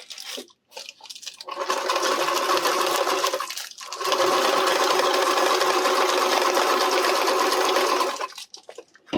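A sewing machine stitches fabric for RV reflector shades, whirring loud and close in two long continuous runs separated by a brief pause, with short quiet gaps at the start and end.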